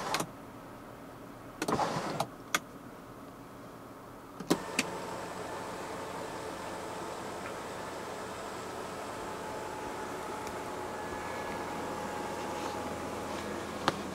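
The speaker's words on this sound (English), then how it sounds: "pull back a second time to open up the sunroof itself" A 2021 BMW X7 xDrive40i sunroof motor runs in a steady, faint electric hum after a few clicks and thumps, continuing smoothly for over ten seconds inside the quiet cabin.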